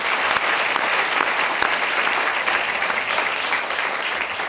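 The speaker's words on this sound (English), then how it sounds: "Can we give them a round of applause for their service?" Crowd at a healthy food and school nutrition event in Cambridge gives sustained, even applause to community partners, many hands clapping at once, close and fairly loud with no talking.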